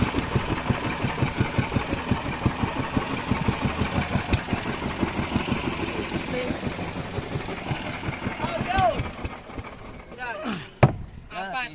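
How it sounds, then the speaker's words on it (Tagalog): A fishing boat's engine idles steadily with a low, even throb near the microphone, while people talk over it throughout. "So hindi na napatay yung makina."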